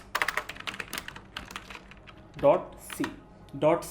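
Keys clatter in quick, uneven bursts as a file name for a C program is typed on a computer keyboard. The tapping is close and light, and a voice talks over the later part.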